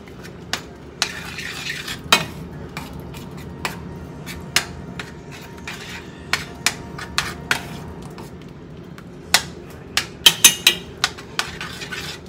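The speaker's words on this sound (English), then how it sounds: "We're gonna just stir and see what we got." A cheese sauce for shrimp pasta is stirred in a pan with a utensil, giving repeated sharp scrapes and taps against the pan over a low cooking hiss, with several quick clinks clustered near the end.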